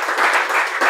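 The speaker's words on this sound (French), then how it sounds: "Ça mérite une main d'applaudissement." Short burst of applause from a small group, close and fairly loud, lasting under a second.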